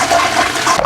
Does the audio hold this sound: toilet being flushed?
yes